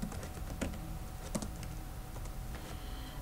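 A computer keyboard being typed on to enter a field name in an Access database, with scattered, fairly quiet keystrokes clicking at an uneven pace against a faint background and no talking.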